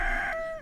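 A rooster in Stardew Valley lets out a single short crow, a clear rising-then-falling call heard alone.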